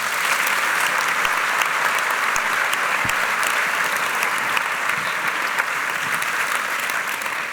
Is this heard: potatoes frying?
no